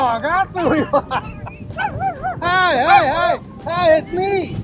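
A dog barks and yips several times in quick, close bursts, some notes stretching into whimper-like whines, with no talk over it.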